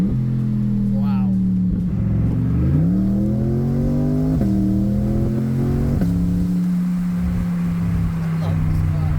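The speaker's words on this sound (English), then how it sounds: "Listen to how this car sounds though in Z mode. I love those hooker headers. I love that hooker exhaust." A C8 Corvette fitted with Hooker headers and Hooker exhaust runs in Z mode, its engine note loud and steady with a few rises and dips in pitch as it revs, with some talk over it.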